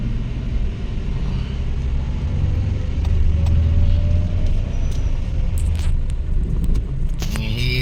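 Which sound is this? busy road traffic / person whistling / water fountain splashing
busy road traffic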